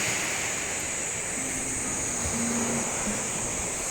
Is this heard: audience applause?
no